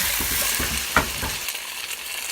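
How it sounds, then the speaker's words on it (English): Oyster sauce being stirred into a sizzling beef and broccoli stir fry, a steady close hiss of frying with a few soft scraping strokes of the utensil through the pan. "added some oyster sauce and just stir that in"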